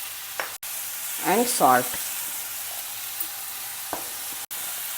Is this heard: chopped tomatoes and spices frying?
yes